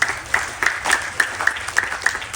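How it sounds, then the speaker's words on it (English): A gathering at a Ganesh Chaturthi Utsav celebration applauds Pandit Shekharji. Distinct claps fall in a steady rhythm roughly three times a second, fairly close and moderately loud, with no talk over them. "give him a round of applause"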